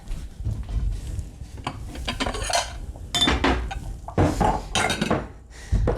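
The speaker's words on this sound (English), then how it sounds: "I'm gonna grab a bowl for the wet" In a home kitchen during breakfast-bar baking prep, bowls and dishes clink and scrape close by as a bowl is grabbed, with several sharp ceramic knocks and rattles in an irregular rhythm.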